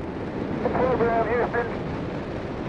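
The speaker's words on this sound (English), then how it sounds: "All three engines up and burning. 2, 1, 0, and liftoff." Space shuttle Atlantis lifting off on its final launch, all three main engines burning, makes a steady, broad, distant roar that runs the whole time, with a voice speaking briefly over it.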